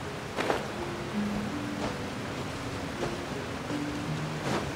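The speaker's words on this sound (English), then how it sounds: "Time to go through a waterfall." Steady rushing water of a waterfall in the Genshin Impact video game, a constant broad wash of noise throughout with faint soft tonal game cues dotted underneath.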